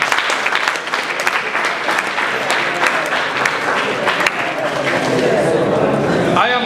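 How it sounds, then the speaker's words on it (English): Students at a boys' high school career day clap together, a dense burst of applause in a hall that gives way to a rougher mix of crowd noise and voices. "Please clap."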